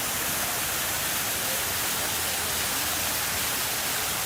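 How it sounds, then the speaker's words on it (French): A waterfall rushes in a steady, dense roar of broadband noise with no breaks or other sounds. "je vous montre cette très jolie cascade encore"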